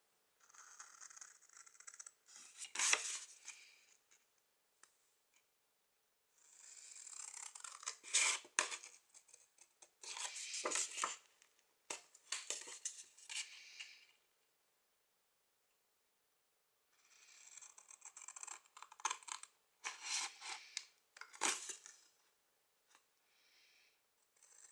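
Scissors snip and rattle through cardboard tabs on a gift tag box in several clustered bursts of crisp cutting and scraping, separated by pauses of quiet.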